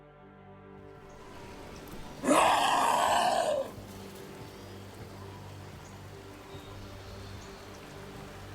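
Steady rain falls in the video game Dragon Age: The Veilguard, a constant soft hiss throughout, broken midway by a loud, brief groaning burst lasting just over a second.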